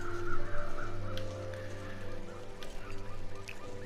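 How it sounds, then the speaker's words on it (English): Crows caw in The Long Dark survival game as a flock passes overhead, their calls moderately loud and scattered over a steady low ambient hum. "I'd like to find out why those crows are going wild."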